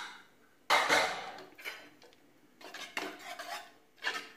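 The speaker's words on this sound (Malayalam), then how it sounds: "നമുക്ക് കുക്കർ ഒന്ന് ഓപ്പൺ ചെയ്ത് നോക്കാം" Metal clanks and scrapes as a pressure cooker lid is opened and handled in a kitchen after cooking nombu kanji rice porridge. A sharp clatter is followed by several lighter knocks and rattles, all close, with no speech.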